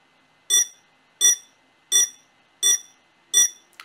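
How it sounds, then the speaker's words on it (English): Five loud, clipped electronic beeps from a FIMI X8 SE drone during a firmware update sound at an even pace, each separated by silence. "So now the quad's beeping."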